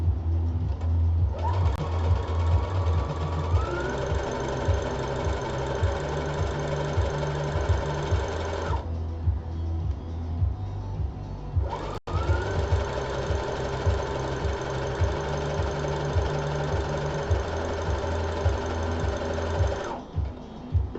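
A sewing machine runs steadily while stitching a skirt with a slightly lengthened stitch, pausing briefly midway before resuming its close, continuous whirring; no talk is heard.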